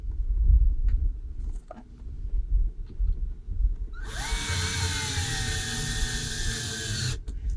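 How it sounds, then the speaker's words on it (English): Power drill driving screws into a boat deck hatch, a high whirring run of about three seconds that slows as the screw seats, close and loud, after some handling knocks. "Now it's just a matter of putting the screws in."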